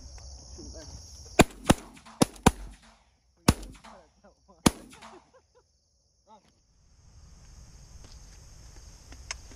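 Sharp, loud shots ring out during a pigeon hunt in Minnesota, roughly six reports in an irregular burst followed by quieter rustling and insect chirps, with people talking between shots.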